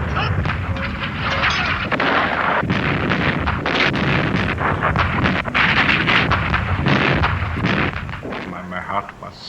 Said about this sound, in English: the massed artillery opened fire